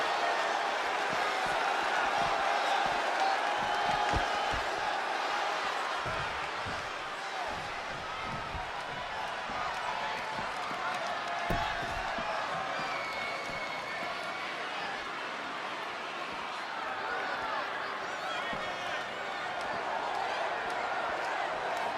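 Crowd cheering at a wrestling match in the WWE 2K20 video game, a steady broadband roar of the audience that holds throughout, with scattered impacts and louder swells near the end.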